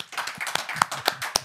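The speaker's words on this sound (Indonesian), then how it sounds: "Tepuk tangan buat Bang Abraham Samad." Small studio audience claps for a guest on an Indonesian talk show, a sparse, uneven patter of hand claps over about a second and a half with a few sharper individual claps standing out.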